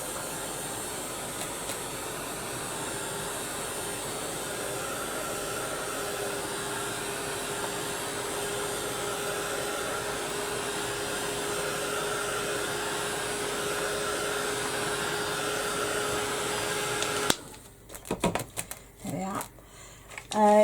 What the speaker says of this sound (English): Give it a quick blast with the heat gun just to dry it off.